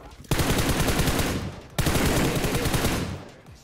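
Rapid automatic gunfire in the mobile battle-royale game PUBG Mobile, two loud sustained bursts of dense shots, the second starting after a brief break, with faint voices underneath.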